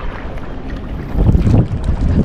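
A fiber boat carrying a heavy load of ice blocks and stones cruises on open water as it eases off speed, with a steady low engine and wind rumble that swells louder midway, no voices.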